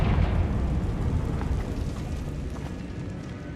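A Confringo blasting spell explodes in Hogwarts Legacy inside a decaying catacomb, a loud, close, deep rumbling boom that rolls on and slowly fades over several seconds.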